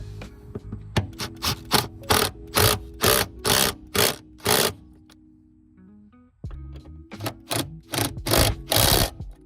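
An impact wrench snugs up a car's lug nuts in a quick series of short, loud rattling bursts, then pauses briefly before another run of rapid bursts close by.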